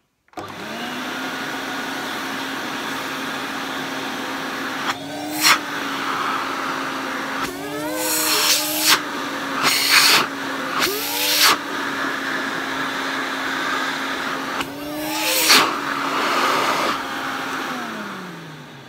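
An Electrolux 304 cylinder vacuum cleaner runs with a steady loud motor drone that starts at switch-on and winds down near the end, with its pitch dipping several times as the suction is blocked and released.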